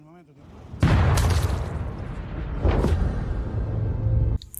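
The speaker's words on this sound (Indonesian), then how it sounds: "tiba-tiba terdengar bunyi tembakan" A sudden loud gunshot blast followed by a second boom in a film, over a rumbling dramatic soundtrack with no clear speech.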